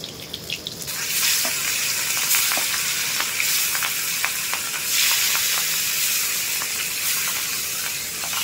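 Hilsa fish hits hot oil with tempering and sets off a loud, bright sizzle that holds steady for several seconds, with a few small crackles and spatters close by.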